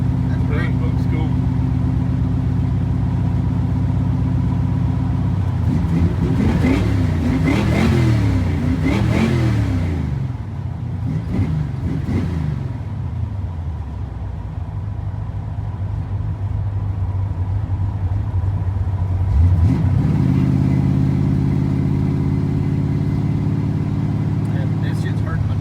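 Grey Ghost car on its first drive, engine droning and rising in pitch as it revs and accelerates, easing off mid-run, then climbing again, loud and close with people talking over it inside the cabin.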